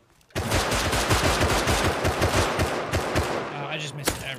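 Rapid gunfire from the survival video game Rust, a dense burst of many loud, close shots in quick succession that runs nearly the whole time, with a voice faintly under it near the end.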